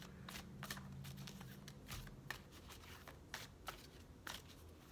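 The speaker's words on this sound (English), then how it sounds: "I take a while to shuffle because I have to feel each card" Playing cards are shuffled slowly by hand in a quiet room, a series of soft riffling bursts and taps in uneven rhythm, close and faint.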